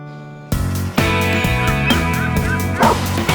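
A dog barks in a series of loud, close yips and woofs, a rhythmic run of sharp calls with some whimpering tone, after a brief quieter start.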